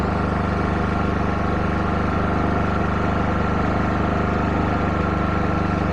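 A small engine idles steadily on the fuel left in its carburetor, a continuous close, loud hum with even vibration and no voices throughout.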